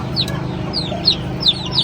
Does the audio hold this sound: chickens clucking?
yes